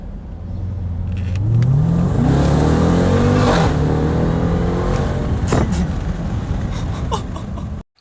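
A Jeep Trackhawk's engine revs hard and loud up close, its exhaust climbing in pitch through a sustained roar, easing slightly, then a few sharp pops and crackles before cutting off abruptly.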